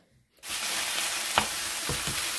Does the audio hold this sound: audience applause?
no